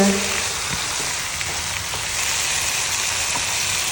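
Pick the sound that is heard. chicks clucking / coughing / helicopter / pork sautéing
pork sautéing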